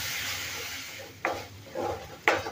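Ginger garlic paste sautéing in a pan for puri bhaji, a soft continuous sizzle with two sharp spoon scrapes and a brief rustle of stirring, close but fairly quiet.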